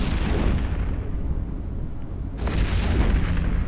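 A loud, booming explosion as a ship is destroyed in the EVE Echoes space game, with a rumbling blast that fades and then a second burst swelling near the end.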